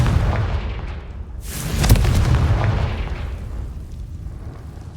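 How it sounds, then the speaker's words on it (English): A Confringo blasting spell explodes in Hogwarts Legacy, a heavy booming burst with a sharp crack at its peak, swelling in and then rumbling away into a low fading tail. "Confringo!"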